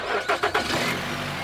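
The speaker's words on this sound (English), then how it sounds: "We'll start the engine." Nissan car engine cranking with a few quick starter whirs, then catching and settling into a steady idle, close and moderately loud.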